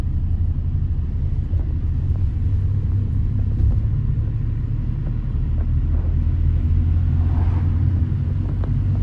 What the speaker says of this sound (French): je suis complètement en sous-régime, le véhicule tremble, c'est normal